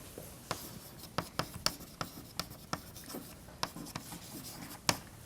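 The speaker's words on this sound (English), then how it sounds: "I'm going to write the exchange rate on this axis here" Chalk or marker strikes and scratches on a lecture-hall board, a sparse run of short, faint taps and strokes with quiet room tone between them.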